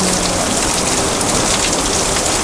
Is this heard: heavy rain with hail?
yes